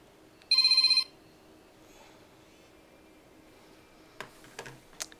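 A single short burst of electronic telephone ringing sounds near the start, then quiet with a few faint clicks toward the end.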